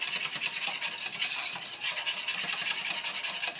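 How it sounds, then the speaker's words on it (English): Steady scraping swirl of a whisk stirring unsweetened vanilla almond milk for vegan cinnamon hot cocoa, a continuous brisk rasp with a quick even rhythm, close and moderately quiet, no voices. "And then you're going to whisk that together"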